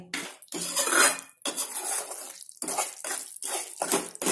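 Fried edible gum crushed with a bowl in a kitchen, heard as loud clattering and scraping of metal against metal in several uneven bursts separated by brief pauses.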